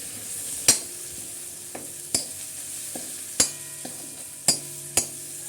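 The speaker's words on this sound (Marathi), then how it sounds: "त्यामुळे टोमॅटो टाका टोमॅटो टाकून दे पूर्ण" Tomatoes tossed into a frying pan for poha and stirred, with a handful of sharp spoon clacks against the pan spaced over a low, steady sizzle; no talking.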